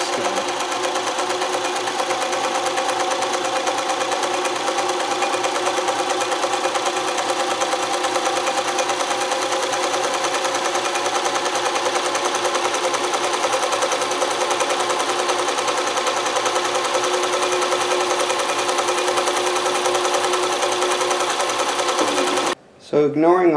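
A Consew CN2053R-1A industrial sewing machine, speed-limited and set in a domestic treadle table, runs with a steady loud mechanical whir and rapid needle chatter for over twenty seconds before cutting off abruptly.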